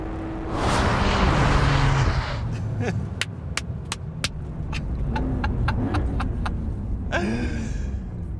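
A 2025 Porsche 911 Hybrid engine gives a short, loud rev burst, then settles into a low idling rumble broken by sharp clicks and ticks.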